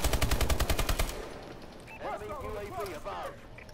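Rapid automatic gunfire from a weapon in Call of Duty: Advanced Warfare, a loud, fast, steady burst lasting about a second before cutting off, followed by someone talking.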